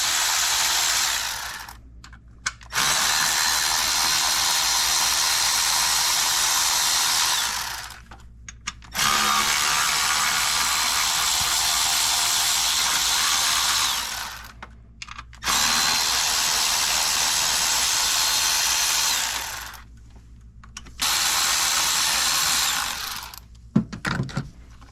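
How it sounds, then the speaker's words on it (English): A power tool loosens the 8mm lower intake manifold bolts on a Chrysler Town & Country, loud whirring runs of several seconds each, separated by four short pauses, close up. "I'm just gonna undo the bolts for the lower intake manifold."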